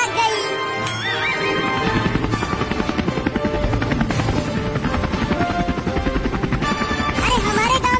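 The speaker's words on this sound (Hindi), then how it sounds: "चलो अब हेलीकॉप्टर को उड़ाया जाए।" Steady rapid chopping of cartoon helicopter rotor blades continues throughout, mixed with a horse whinnying and other busy sound effects, loud and close.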